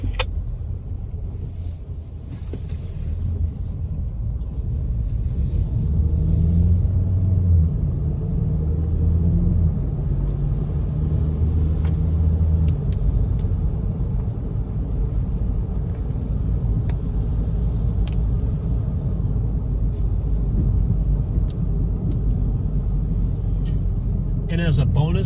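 A 2021 Ford Bronco Sport Badlands cruises along a back road, its steady engine and tire rumble holding loud and constant from start to finish with wind noise on top.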